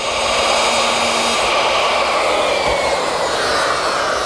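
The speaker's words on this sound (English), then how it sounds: "I use my router with this guide fence and a 3/4 inch straight cutting bit." A router fitted with a 3/4 inch straight cutting bit and guide fence mills a stop dado in pine, a loud continuous high-pitched whine with a steady cutting roar throughout.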